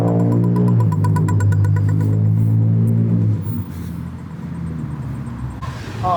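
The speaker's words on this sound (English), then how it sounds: "I can't hear you over the sound of cars." Car engines on a road, loud and close for the first few seconds with a strong throbbing drone, then easing into a lower steady traffic rumble.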